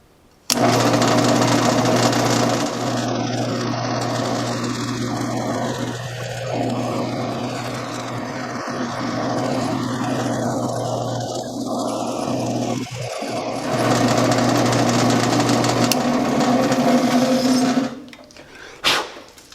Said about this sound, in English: we're giving the drill bit the best chance possible to create an accurate straight hole